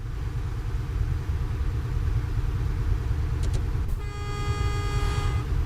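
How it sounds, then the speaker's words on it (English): A car passes by in a truck simulator driving game, heard as a steady road and engine rumble that runs throughout, with a short horn-like tone near the end. "Did that sounded like a car went by?"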